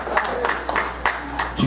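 Comedy club audience at Studio 98 breaking into scattered clapping and a whoop, several sharp bursts of applause at a moderate distance, brief and uneven.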